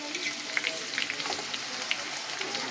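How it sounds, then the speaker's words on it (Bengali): Spice paste frying in a pan with potatoes, onion and garlic, a continuous moderate sizzle with faint scraping stirs and small spattering pops. "মশলা দিয়ে এটা কষিয়ে নিই।"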